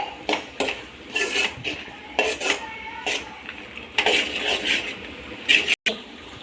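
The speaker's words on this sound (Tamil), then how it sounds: "சேர்த்து நல்லா கிளறி ஒரு 2 நிமிஷம் கிளறி அது கூட மசாலாவோடு சேர்த்து நல்லா வேகட்டும்" Clinks and scrapes of a spoon stirring boiled pasta into masala in a pan, arriving in short irregular bursts, close and moderately loud, with no talking.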